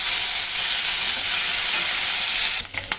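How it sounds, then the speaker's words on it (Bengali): Onion and garlic paste sizzles steadily in hot oil while cooking taro and tilapia, a dense continuous frying hiss close up, with a few stirring clinks near the end. "পেঁয়াজ রসুনটা হালকা একটু ভেজে নিলাম।"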